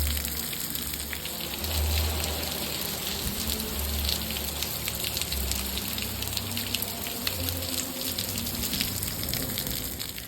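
Rain falls steadily in a yard, a close, continuous patter of drops on surfaces with a soft low rumble underneath, even and unbroken throughout with no voices.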